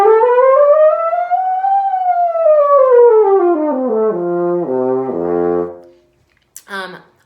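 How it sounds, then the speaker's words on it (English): A French horn played alone and close, one sustained tone rising and falling before stepping through a series of distinct notes, then stopping, followed by a brief bright burst. "I'm going to play a harmonic series. I'm going to keep going up because this note is not the highest note we can play."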